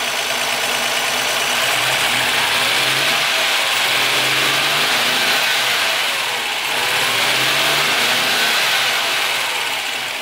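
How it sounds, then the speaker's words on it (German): Ford Sierra XR4i V6 engine running after a valve adjustment, holding a steady raised speed with a loud, continuous mechanical roar and faint rhythmic ticking, briefly dipping and rising again. "Dann hebt er das Gas ein bisschen, oder besser gesagt die Drehzahl ein bisschen an, weil er ein bisschen auf früh geht."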